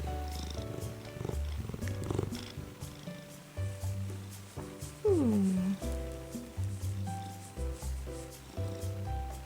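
A cat purrs steadily up close, with rustling, soft handling noises and a brief vocal sound partway through.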